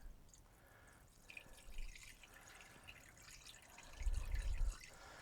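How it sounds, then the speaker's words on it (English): Evaporust rust remover poured gently from a one-litre container, a soft continuous trickle and drip with a fuller gurgling splash near the end, close and quiet. "Well, it's expensive stuff this, so I'm going to pour gently."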